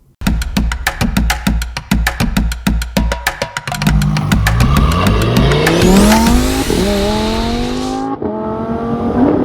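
A Lamborghini Huracan Sterrato is driven hard on track, starting with rapid rhythmic engine pulses as it climbs through the revs, then a loud sustained wail through upshifts with tire squeal, before cutting off abruptly near the end.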